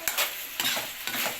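Pork frying in oil for adobo, a steady sizzle broken by three soft knocks of stirring, close and fairly quiet.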